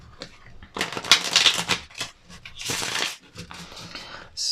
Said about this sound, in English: Let's give them a quick shuffle.